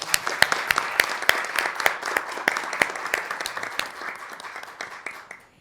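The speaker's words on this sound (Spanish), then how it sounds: "Un aplauso, por favor." An audience in a university engineering auditorium breaks into applause, a loud, dense patter of many hands that holds steady and then gradually fades out.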